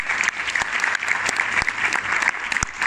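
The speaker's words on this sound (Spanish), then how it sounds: "Un fuerte aplauso para este actor" An audience applauds after a poetry performance at a youth confederation event in Mexico, steady loud clapping from many hands with a few sharp individual claps standing out.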